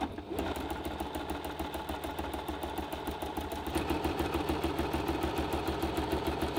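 A Toyota Oekaki 50 sewing machine stitching free motion embroidery gives a fast, even mechanical chatter close by, picking up in speed and loudness a little past halfway, with no talking.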